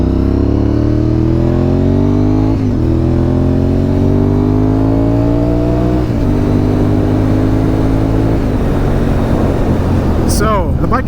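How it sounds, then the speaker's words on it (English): A 1000cc super sport motorcycle accelerates hard on a road, its engine rising in pitch through several gears with short dips at each shift, loud and close throughout. "I'll show you guys how it accelerates since we do already have it warmed up."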